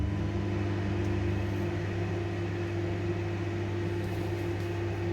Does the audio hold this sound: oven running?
yes